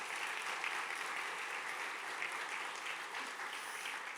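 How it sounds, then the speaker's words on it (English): Audience at a business power breakfast with the NYC Public Schools Chancellor applauds Board of Regents members in a steady, dense roar of clapping that holds even and unbroken from start to finish. "So if everyone could give them a round of applause,"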